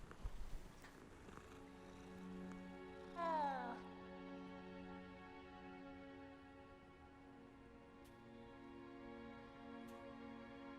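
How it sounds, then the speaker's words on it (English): Cat meowing in a Harry Potter video game, a single drawn-out meow near the start over steady tonal background music, with a voice briefly heard. "The cat!"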